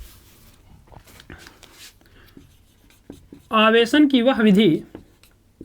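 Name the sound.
teacher writing a definition on the board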